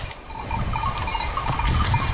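Sheep bleat repeatedly from close by alongside a hillside trail, a steady bleating chorus over outdoor background noise.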